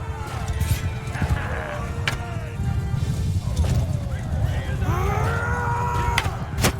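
A horse whinnies with a falling, wavering cry in the middle of a clattering medieval battle in Mount and Blade II Bannerlord, rising above steady crowd noise and impacts.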